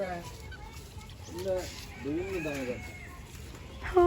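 A chicken clucks in a home garden among mango, pomegranate and flowering plants, a few short throaty calls at moderate distance over faint outdoor background.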